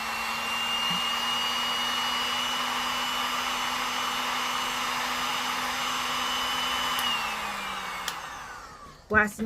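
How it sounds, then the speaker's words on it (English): A heat gun blows on the painted vinyl of a reborn doll, a steady close whooshing roar with a constant motor whine that holds for most of the time, then winds down as it switches off, followed by a couple of handling clicks. "I would take my heat gun."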